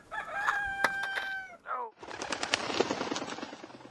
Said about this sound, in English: Yeah, I got some roosters.